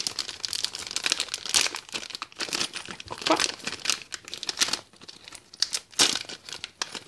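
A crinkly plastic blind bag package is torn and pulled open up close, with irregular bursts of crumpling and tearing and faint background voices.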